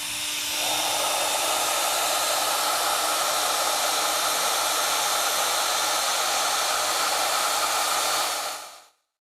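A Shaper Origin handheld CNC router making a light trimming cut, a loud, steady high-pitched whine that holds evenly for about eight seconds before spinning down to silence, with no voices.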